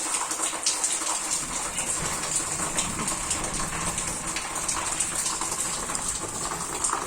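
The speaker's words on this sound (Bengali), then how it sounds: "দেখো তো কী হারে বৃষ্টি পড়ছে" Heavy rain falls in a loud, dense, steady wash of water that splashes and gushes close by. No one can be heard speaking.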